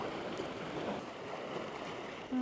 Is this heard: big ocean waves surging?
yes